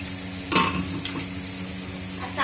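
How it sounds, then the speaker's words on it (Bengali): Potatoes fry in a pan with a soft continuous sizzle, a louder burst of crackling as they are stirred, then a quieter steady hiss. "আলুটা ভাজা হচ্ছে"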